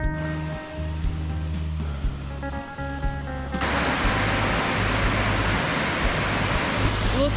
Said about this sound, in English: Look how pretty that waterfall is.